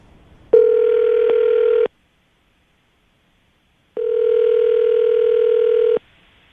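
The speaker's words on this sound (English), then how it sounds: "I'm going to dial the phone number right now" Two long, steady telephone line tones sound loud and close, each cut off cleanly and separated by a couple of seconds of silence, with no voices.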